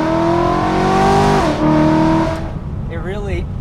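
A tuned BMW E93 M3 convertible with a DCT transmission revs hard under acceleration, its loud, steady engine note dropping sharply at a quick gear change before climbing again, then easing off as a voice speaks over it.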